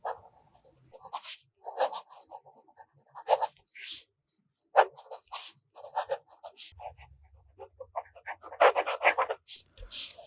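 A fountain pen filled with Noodler's ink scratches across paper in short, quiet bursts of strokes separated by pauses, close and alone.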